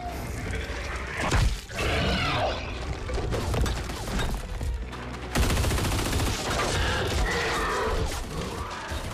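Repeated gunfire bursts from a Gears of War 4 firefight, aimed at a charging creature, with rapid volleys and crashing impacts running continuously and loudly throughout.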